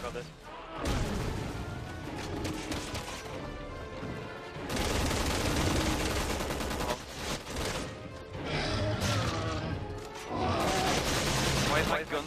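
Bursts of gunfire in the Resident Evil 6 Chris campaign demo come in dense, loud volleys, broken by short gaps.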